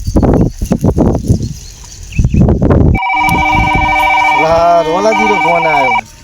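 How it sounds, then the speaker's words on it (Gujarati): Voices talk over a rustic village scene in a Gujarati comedy, then a mobile phone's melodic electronic ringtone sounds for an incoming call, loud and steady for about three seconds before cutting off. "રોલાજી નો ફોન આવ્યો."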